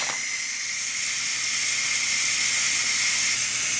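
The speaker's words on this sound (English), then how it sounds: "go ahead and release the pressure now and use anything except your hand" Steam hisses steadily from a Ninja Foodi pressure cooker during a pressure release after cooking penne pasta in chunky marinara, a loud, continuous bright rush that lasts the whole stretch without a break.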